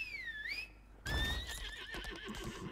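A horse in the video game Lost Ark whinnies in a high, wavering call, followed by a second neigh over shuffling hoof sounds, clear and close.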